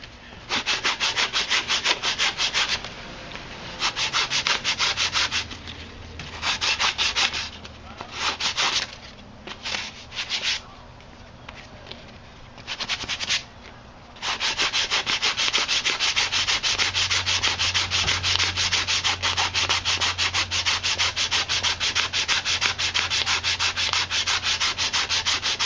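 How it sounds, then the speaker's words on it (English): A strop handle wrapped in 150 grit sandpaper is sanded by hand with steady, rapid back-and-forth scratching strokes, close and loud, broken by several short pauses midway before the rubbing resumes without a break. "and we start sanding."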